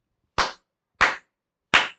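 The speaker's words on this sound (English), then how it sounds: "this is not a fake slow clap." Three slow, crisp hand claps ring out at an even pace in a quiet room, each a single sharp clap separated by silence.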